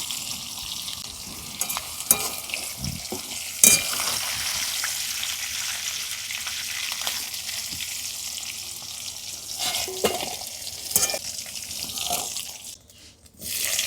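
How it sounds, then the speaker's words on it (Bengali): Green jackfruit pieces fry in hot oil in a pan for a Bengali prawn curry, giving a steady bubbling sizzle with occasional clinks and stirring scrapes, close by and without any talking. "বাকি এঁচোড়গুলো ওইভাবে ভেজে নেব"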